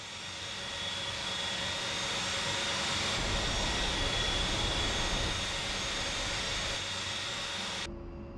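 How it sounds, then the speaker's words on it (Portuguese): An A-10C's jet engines run during start-up in DCS World, a steady, loud, whining roar with a high hum that holds for several seconds and then cuts off abruptly. "O motor tá esquisito, peraí."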